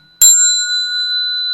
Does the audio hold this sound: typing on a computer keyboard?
no